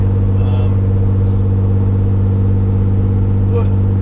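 A pickup truck cruising north on Route 390 between Bath and Rochester, New York, its engine and road noise a loud steady drone heard from inside the cab with the side window open, with no talking.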